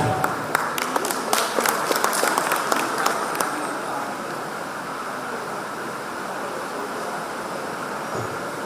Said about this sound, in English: Let us put a round of applause to the release of Souvenir of Vanijya Parivartana 2K25